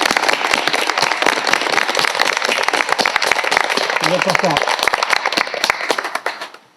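An audience at a bench inauguration claps in a dense, steady round of applause that fades out at the end, with a person speaking briefly over it.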